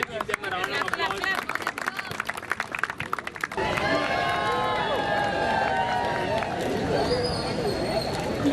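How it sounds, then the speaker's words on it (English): At a college football tournament event, a crowd claps in sharp, dense bursts for a few seconds, then the clapping gives way to cheering, whistling and a busy babble of voices. "On the others, we can give them a round of applause."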